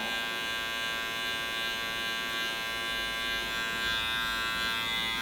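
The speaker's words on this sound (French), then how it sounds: "regardez bien comment je mets ma tondeuse" Electric hair clipper buzzing steadily and continuously at close range while fading a haircut, a dense even motor hum with no pauses and no talk.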